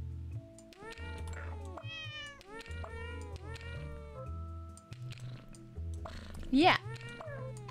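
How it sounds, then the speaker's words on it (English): Repeated meows from an awkward house cat, several drawn-out cries in quick succession over a low steady drone, close and fairly loud, with a brief voice near the end. "He is a rather awkward cat."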